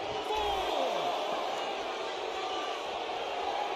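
Arena crowd in the WWE 2K16 wrestling video game, a steady roaring cheer sustained throughout with a commentator's voice talking over it.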